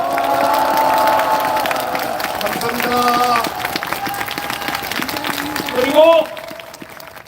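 A rally crowd outside the National Assembly claps and cheers in a broad, sustained wash of applause, with someone speaking over a loudspeaker and short musical tones near the end.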